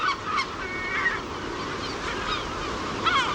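Gulls call repeatedly at a coastal nesting colony on the Cíes Islands, with bursts of harsh, honking cries near and far over a steady wind-and-surf wash.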